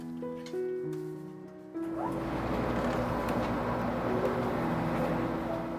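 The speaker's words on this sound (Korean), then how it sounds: "제천역을 출발한 열차가 다음 역인 단양역에 접근합니다" A KTX high-speed train runs between Jecheon and Danyang stations, its steady loud rumble and broadband rush building after a tonal, musical opening and continuing close and unbroken.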